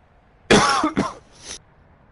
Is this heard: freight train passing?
no